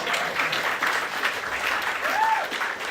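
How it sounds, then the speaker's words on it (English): Comedy show crowd applauding during a stand-up roast, a sustained burst of clapping with a brief whoop or cheer rising near the end. "How about a round of applause?"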